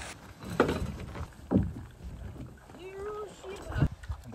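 A solo paddler works a canoe along an icy creek. Slow paddle strokes splash and swish near the microphone amid wind noise, with brief speech between strokes.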